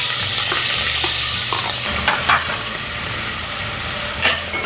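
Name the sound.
sautéing shrimp heads and shells in a pan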